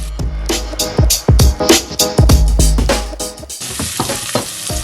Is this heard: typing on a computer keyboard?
no